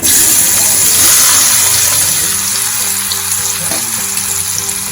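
Spiny gourd (kantola) dropped into hot oil, giving a loud, steady sizzle that fills the whole stretch, alone with no voices.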